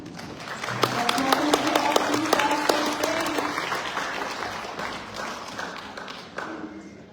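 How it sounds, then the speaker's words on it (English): Audience applause at a Vietnamese traditional music event featuring zither and monochord performers, a dense burst of clapping hands that holds steady for several seconds before thinning out, with faint voices and a few tonal notes underneath. "Now please join me in giving a big round of applause for the Vietnamese little style."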